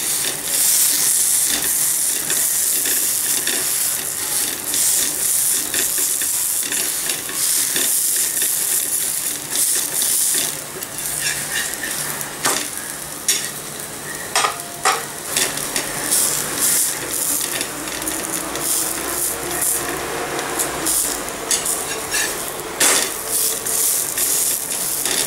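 Methi paneer paratha pressed down on a hot pan sizzles and hisses steadily and loudly up close, with scattered sharper crackles and scrapes as it is pressed and moved, no voices.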